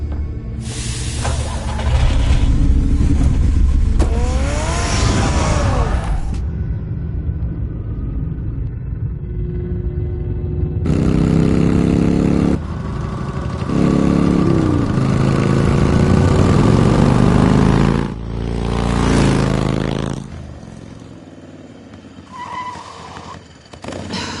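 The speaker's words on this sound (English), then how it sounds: "Get the car ready, Alfred" Car engine in the Batman Telltale video game, loud rumbling engine bursts that rise in pitch as it revs, broken by a short quieter gap, then a final rev that fades out.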